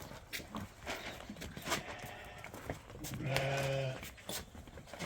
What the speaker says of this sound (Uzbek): Mana qo'chqor.